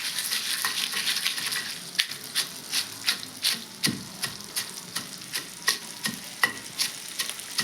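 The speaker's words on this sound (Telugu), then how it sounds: "నేనైతే కొద్దిగా ఉప్పు వేసి దంచుతున్నానండి" Rhythmic pounding of salted green chutney in a stone mortar, repeated gritty thuds and scrapes at a steady pace, close and moderately loud with no talking.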